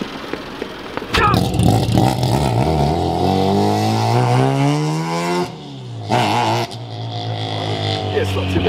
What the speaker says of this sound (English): Give it lots of revs when you take off.